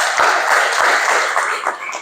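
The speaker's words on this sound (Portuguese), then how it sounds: "vamos todos agradecer com 3 salvas de palmas" A church congregation applauds in a continuous, loud wash of clapping that fills the space, with a few sharper individual claps standing out.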